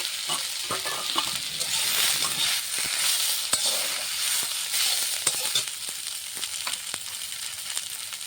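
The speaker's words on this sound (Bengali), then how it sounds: "এখন কেটে রাখা পেঁয়াজগুলো দিয়ে দেবো" Onions sizzle and hiss in a hot pan with fried curry leaves, a constant bright fry with occasional scraping clicks of stirring.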